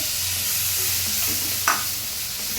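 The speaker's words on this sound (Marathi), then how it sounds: "मटार पण घालून मी छान असं त्याला मिक्स करून घेणार आहे" Green peas being stirred into a spiced potato samosa filling in a hot pan, a steady soft sizzle with low scraping and one sharp spoon clack near the end.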